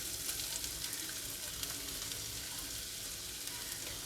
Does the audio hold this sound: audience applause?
no